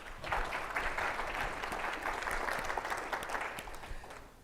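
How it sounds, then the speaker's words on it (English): Audience applause at the GROWCON 23 conference, a steady dense patter of many hands clapping that holds for several seconds before easing off near the end. "Give another round of applause for Matthew."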